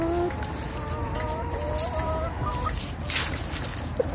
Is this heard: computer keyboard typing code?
no